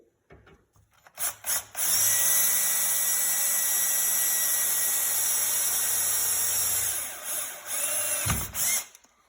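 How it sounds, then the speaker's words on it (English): An 11/64 bit drills a hole into a stuck .223 brass case clamped in a full-length sizing die, the drill whining loudly and steadily for several seconds after brief start-up bursts, then stopping in a few short pulses. "What I'm going to do now is drill it out."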